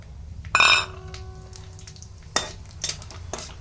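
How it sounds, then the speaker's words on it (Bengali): Fennel seeds, dried chilli and bay leaf dropped into hot oil in a wok burst into a sharp, loud sizzle that quickly fades, followed by a few light metallic clinks and soft rustles. "এখানে কড়াইতে একটু তেল দিয়ে দিলাম। তেলের মধ্যে ফোড়ন দেবো, এই দেখো মৌরি"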